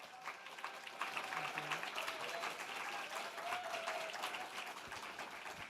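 A church youth gathering applauds as the senior pastor comes forward for a special lecture, a steady wash of many hands clapping that is soft and fairly distant throughout.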